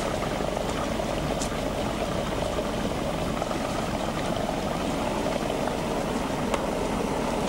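Water boiling in a science demonstration, a steady bubbling roar with dense low rumble and occasional brief pops, continuous and even throughout with no talking.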